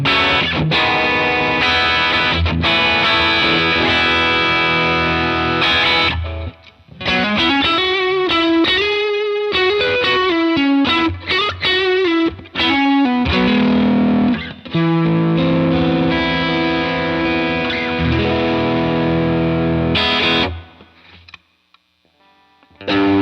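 Electric guitar through a Browne Amplification Carbon X Dual Overdrive pedal with the gain turned all the way up, giving a dense, saturated distorted tone over sustained chords and a melodic lead run before ringing out and stopping.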